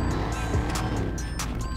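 A Camaro in GTA 5 drives with a steady engine hum and road noise, tire and passing sounds flickering over the constant motor drone.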